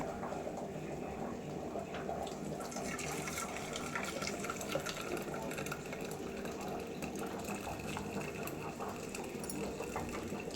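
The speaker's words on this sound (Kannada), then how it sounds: "ಸ್ವಲ್ಪ ಸಕ್ಕರೆ ಕರಗಿದೆ ಫಿಲ್ಟ್ರ್ ಮಾಡ್ಕೊತೀನಿ" Melted sugar syrup for gulab jamun is poured through a filter, giving a steady, close liquid rush that stays even throughout, with a faint kitchen hum underneath.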